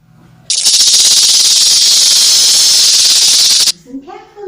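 A snake hisses loudly and steadily for about three seconds as part of a jungle-themed sound guessing game, abruptly stopping before a voice begins speaking.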